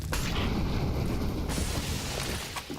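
A grenade goes off during a professional Counter-Strike match, with a broad rumbling boom and a lingering rolling tail behind it.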